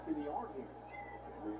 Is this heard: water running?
no